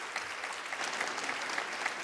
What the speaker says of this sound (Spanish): Así que démosle un gran aplauso a los tres.